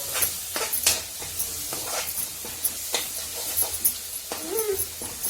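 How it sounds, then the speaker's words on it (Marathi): Garlic, salt and chilli sautéing in a pan make a soft sizzle with scraping stirs and clinks, moderately close, with a brief voice-like sound near the end. "लसूण मीठ मिरची सगळी करून घेतली होती, ती परतून घ्यायची चांगली."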